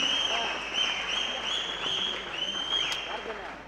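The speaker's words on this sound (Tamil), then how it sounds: "அவங்களுக்கு உண்மையிலே ஒரு கைத்தட்டல் வெகுவாக கொடுங்க" Audience at a film audio launch event clapping steadily, a dense, even wash of applause at moderate distance that holds for several seconds without speech over it.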